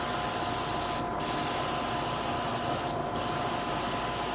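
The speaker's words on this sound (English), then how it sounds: "it sprays a lot better with a little bit of alcohol" Spray gun misting white undercoater thinned with 99% alcohol, a steady close hiss running the whole time with two brief dips where the trigger is released.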